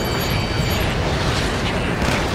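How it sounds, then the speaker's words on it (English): Explosions in the combat flight game Ace Combat 7 during a missile attack mission, a dense continuous rumble of blasts and booms filling the clip at high loudness with no pause. "An explosion inside."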